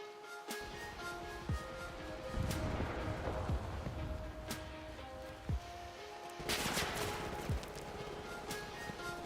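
Gunfire in a video game, scattered sharp shots and a few clustered bursts against a steady background hum, moderately distant and uneven in timing.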